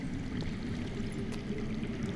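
Underground water flowing in a Game of Thrones video game, a steady low rushing and pouring wash that continues evenly throughout, moderately loud with no talk.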